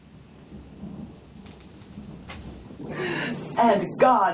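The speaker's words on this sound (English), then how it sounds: "And God voices his thunder." Thunder sound effect on a film set: a low, rolling rumble with rain-like hiss builds over several seconds, then louder crackling bursts near the end, with voices partly mixed in.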